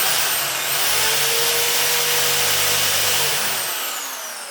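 A power drill whines steadily at high speed for several seconds while boring holes in wood for a cigar box guitar, then winds down and stops near the end, loud and close.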